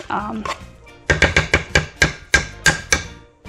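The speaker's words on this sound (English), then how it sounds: "this tool here, the smasher, and you'll want to smash those avocados pulps into a mush or a paste" Avocado pulp being smashed with a masher in a bowl for Mexican dishes: a quiet opening, then about nine firm, evenly spaced thumps and squishes close by, with no talking.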